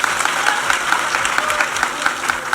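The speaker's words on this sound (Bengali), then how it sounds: "একটা হাততালি" Audience applause at a political rally in West Bengal, a dense, steady clapping from a large crowd filling the whole stretch at full strength.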